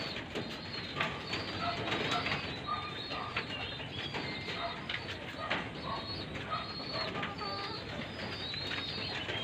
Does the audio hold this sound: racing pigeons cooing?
yes